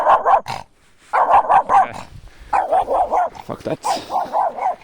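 A Tibetan Spaniel barks close by in quick, rhythmic runs of sharp yips and barks with short pauses between bursts, and a person briefly speaks over them.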